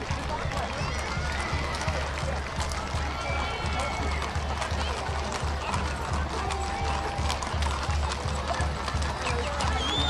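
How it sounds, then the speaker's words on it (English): Many hooves of big cavalry horses clip-clop steadily on hard pavement at a parade, a brisk overlapping rhythm of several horses passing nearby, with a faint crowd murmur underneath. "I love the sound of the clip-clop on the pavement."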